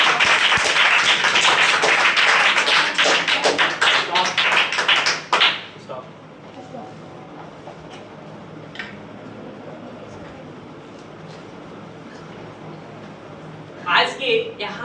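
A class audience gives dense, loud applause of many hands clapping for about five seconds to welcome an English speaking batch, then the clapping stops and only a quiet room remains.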